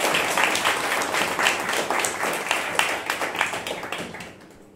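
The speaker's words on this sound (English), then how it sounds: "Give him a round of applause." Audience applauding for the illustrator at a live Dungeons and Dragons show: dense, steady clapping from a large crowd that holds strong for several seconds, then thins and fades toward the end.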